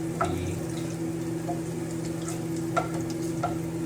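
Garlic sizzling in hot oil for a stir fry, a steady close crackle with a few sharper pops over a constant background hum.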